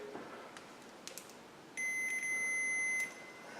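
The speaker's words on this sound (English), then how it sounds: "Okay, so I'm just going to check for continuity." A multimeter sounds its continuity tone while probing the wiring inside a Rapide Lite 3D printer case: a steady, loud electronic beep held for just over a second, preceded by faint clicks of the probes.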